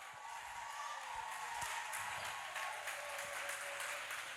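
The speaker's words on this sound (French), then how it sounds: "Est-ce qu'on peut applaudir pour Papa Paul?" Congregation at a praise and worship concert applauding, a steady, fairly soft wash of clapping that carries evenly throughout with light rhythmic accents and a low hum beneath.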